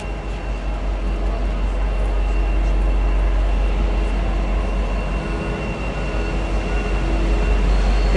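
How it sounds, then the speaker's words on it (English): V/Line N458 train passing, a steady, loud rumble and roar of rolling stock that holds evenly throughout without a break. "N458. It's never boring filming trains,"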